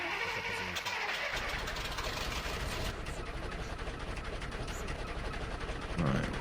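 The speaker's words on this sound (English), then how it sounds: "Okay, start the engine." Vehicle engine in S.T.A.L.K.E.R. Shadow of Chernobyl starting up, a rough rattling crank that catches after about a second and settles into a loud, steady running drone.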